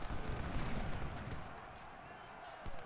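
Musket volleys and artillery fire rumble in a Civil War battle game at Chickamauga, a dense, muffled barrage of booms and pops rolling on, with a voice talking over it.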